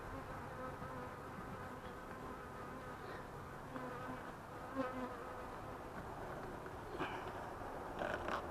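Honey bees hum and drone around a new hive three weeks old, a dense, steady buzz close by with occasional louder passes and light wooden creaks of the boxes.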